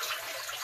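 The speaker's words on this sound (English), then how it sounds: "So I just kind of swish this around to get the dog hair so that it won't get" Water sloshing and swishing inside the water basin of a Rainbow SRX vacuum, used to rinse out dog hair; a steady, close, continuous wash of liquid with no talking.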